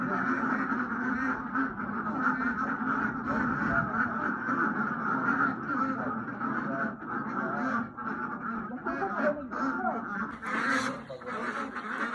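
Farm ducks quack continuously in a noisy, dense chorus, with goose-like honks and other fowl mixed in at close range, busy and steady throughout.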